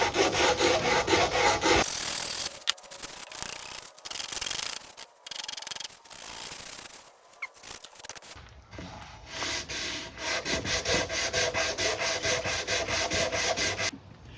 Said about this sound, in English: now I'm just trying to clean up some of this glue